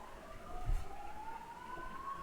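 Outside, an ambulance siren wails faintly in the distance, a thin rising tone drifting over quiet background hum with a brief low thump.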